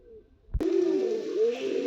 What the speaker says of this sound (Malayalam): നമ്മുടെ ട്രെയിനർ പ്രാവാണ്